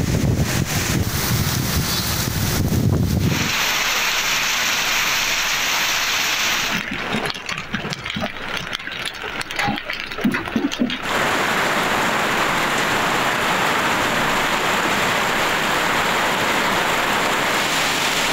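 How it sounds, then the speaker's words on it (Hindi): Dense, roaring rain mixed with gusting wind buffeting the microphone fills the whole stretch, loud and continuous with shifting intensity, in Lahore, Punjab, Pakistan. "लाहौर समेत पंजाब के शहरों में तेज़ हवाओं के साथ बादल बरसे।"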